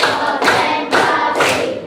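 A group claps together in a counted rhythm, three loud, dense bursts of hands spaced about half a second apart, close and with no talk over them.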